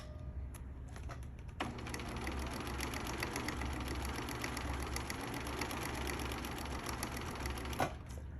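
A sewing machine in a craft center stitches the right side of a buttonhole, a fast continuous close mechanical whirring and ticking that holds steady for several seconds before stopping.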